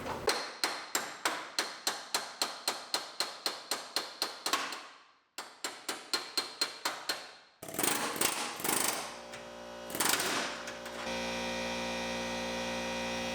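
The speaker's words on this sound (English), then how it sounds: "I'll use our air chisel to separate our rear seat mount and start separating the floor." Air chisel breaking spot welds on a rear seat mount of a 2015 chassis floor for a 1965 Mustang project, loud rapid bursts of hammering pulses in repeated runs, then harsher grinding metal chatter and a steady hum.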